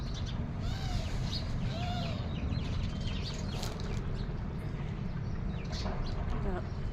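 A flock of birds including mynas chattering and chirping outdoors near trees, many overlapping calls and whistles over a dense, steady background, with people talking nearby.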